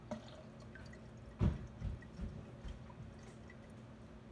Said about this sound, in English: Now this is to pour all the air freshener in